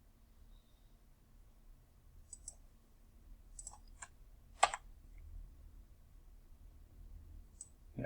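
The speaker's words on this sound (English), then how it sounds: "Now if I click on this up here," Computer mouse clicks while working in Solidworks on a flat pulley part drawing: a few sharp, close clicks scattered over a quiet room background, with one louder click near the middle.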